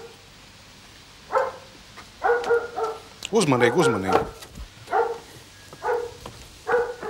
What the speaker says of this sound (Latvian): Lai suņi netraucē.